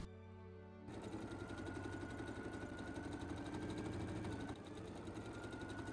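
A sewing machine stitches a yoke across the top edge of a shirt back for a dress, starting after a brief pause and running as a steady, fast mechanical whir with a slight dip near the end.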